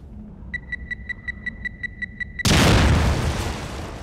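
A bomb detonates in The Evil Within: a steady run of high electronic beeps ticks for about two seconds, then a sudden loud, broad explosion bursts in and roars on as a sustained rumble.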